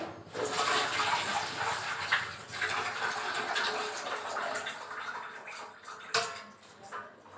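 Soya chunks are strained out of water, producing a continuous close splashing and pouring wash of water with a sharp clatter near the end and no speech.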